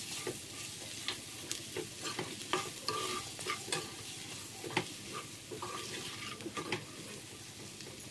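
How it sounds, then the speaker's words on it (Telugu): A spoon stirs ivy gourd pieces with chili powder in a pan, making soft repeated scraping strokes over a faint, steady sizzle, with no talking. "ఇది మొత్తం దొండకాయ ముక్కలకు పట్టేటట్టు మంచిగా మిక్స్ చేసుకోవాలి."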